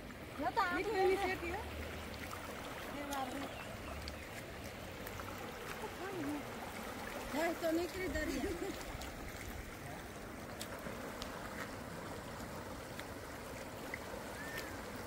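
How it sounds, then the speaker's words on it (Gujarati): A river running high in flood after heavy rain, a broad continuous rushing roar with steady water noise throughout, while people talk over it. "નદી તો હાવ બઘડાટી બોલતી જાય."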